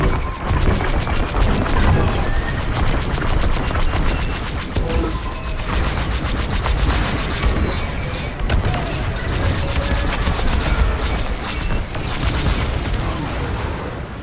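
Starfighter laser fire and explosions in Star Wars Squadrons, a dense, continuous barrage of blasts and crashes that stays loud throughout with no pause.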